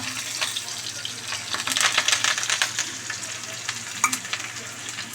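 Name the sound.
spices and onion sizzling in hot oil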